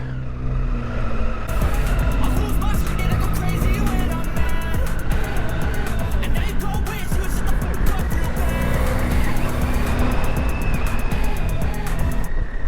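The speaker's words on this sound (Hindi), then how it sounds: "सब टायर बर्न कर रहे हैं" Cars burn their tires at the Gardermoen raceway during a motor show event near Oslo, Norway, with loud sustained engine roar, revving and screeching tire squeal throughout, close and intense.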